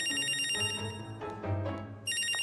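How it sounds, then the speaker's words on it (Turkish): A mobile phone plays a melodic electronic ringtone, clear and close, pausing briefly in the middle before the tune starts again. "Telefon. O benimki."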